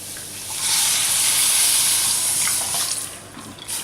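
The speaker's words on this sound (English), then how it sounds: "So I'm going to throw in the milk now." Milk poured into a pan of mushrooms for creamed mushrooms: a steady, loud rushing, hissing splash that holds for about three seconds and then tapers off, with no talking.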